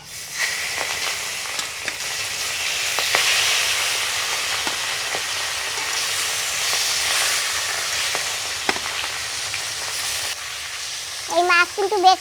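Hilsa fish fries in mustard oil with a continuous close hiss and crackle, scattered pops and a few soft pan knocks, and a short stretch of higher tones near the end.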